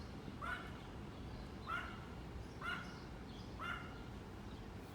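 A dog barks four times at a distance, evenly spaced single barks about a second apart, faint over a low outdoor background hum.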